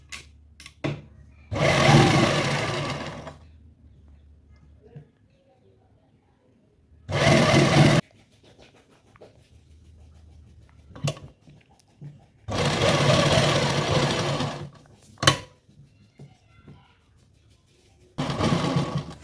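A sewing machine stitches a neckline in loud bursts of steady whirring, a couple of seconds each, with quiet pauses and small clicks between runs.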